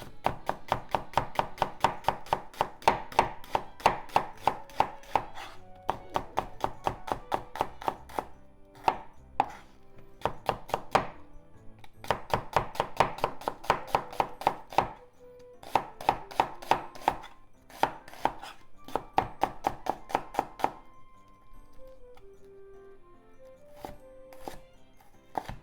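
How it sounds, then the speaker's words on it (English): A knife chops vegetables into thin slices on a cutting board, producing long runs of rapid, crisp, evenly spaced taps in bursts separated by short pauses, close and clear. "Cut into half. Then thin slices."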